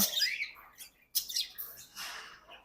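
Pied budgerigars chirp in short, bright bursts, with a few quick calls spaced across a couple of seconds and brief quiet gaps between them. The birds sound fairly close, and no one speaks over them.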